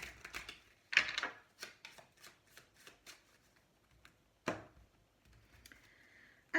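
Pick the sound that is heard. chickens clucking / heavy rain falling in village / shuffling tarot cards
shuffling tarot cards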